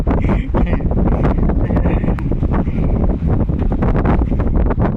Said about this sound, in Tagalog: Oo, ang lakas ng hangin.